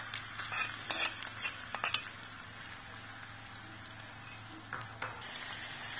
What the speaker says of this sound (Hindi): व्यूअर्स कढ़ाई में ऑयल डाल दी है और मैंने इसमें अदरक लहसुन का पेस्ट डाल दिया है।